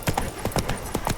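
Roach the horse galloping in The Witcher 3, quick close thuds of hooves striking in a fast, uneven rhythm over a brief moment.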